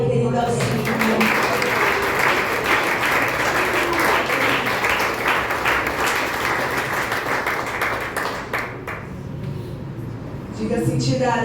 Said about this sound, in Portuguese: aplauda, querida, ao Senhor